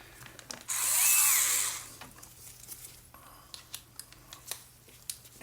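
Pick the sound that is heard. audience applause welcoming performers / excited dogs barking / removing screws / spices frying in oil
removing screws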